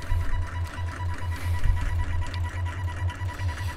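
A homemade solenoid motor cruises steadily, producing a fast rhythmic mechanical chatter with a low pulsing thump and a faint high whine, close by and without voices.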